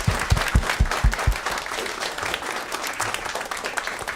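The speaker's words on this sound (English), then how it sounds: "Please, everyone, give them another round of applause." A crowd claps in sustained applause, loud and dense. A few heavy low thumps come early, then the clapping settles into an even wash.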